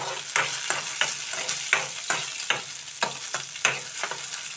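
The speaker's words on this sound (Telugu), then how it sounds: "లో ఫ్లేమ్లో పెట్టి వేయించుకున్నాను పచ్చిమిర్చి చూడండి చక్కగా ఇవి వేగుతున్నాయి" Green chillies fry over a low flame in a pan and are stirred repeatedly, giving a steady soft sizzle broken by regular scraping strokes, close up with no voices.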